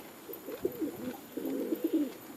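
Pet birds coo indoors in a few soft, throaty bursts, close and moderately quiet, with short pauses between phrases and no talking.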